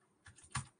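A few quick keystrokes on a computer keyboard, close and quiet, with a louder clack near the end and no talk over them.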